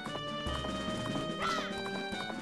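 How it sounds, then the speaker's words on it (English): Horse from the Majora's Mask video game, heard as a game sound effect: a short whinny and hoof clip-clop rising briefly midway over steady background music. "There you are, magical teleporting horse of doom."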